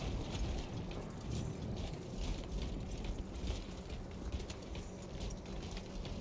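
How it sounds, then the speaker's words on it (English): Weapon reloading in the video game Warhammer 40,000: Space Marine 2, a steady run of mechanical clacks and ratcheting metal clicks layered over dense, loud game noise for several seconds. "Reloading weapon."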